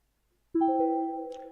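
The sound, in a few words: email notification sound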